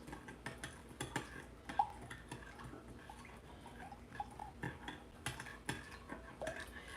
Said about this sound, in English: I'm stirring to melt the sugar